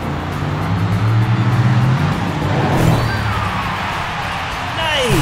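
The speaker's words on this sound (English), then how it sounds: "crash the red truck with the purple truck" Toy monster trucks, a red one and a purple one, roll along a track loop and crash together, with rolling motor-like noise building then a brief clatter and scrape near the end, all under excited talk.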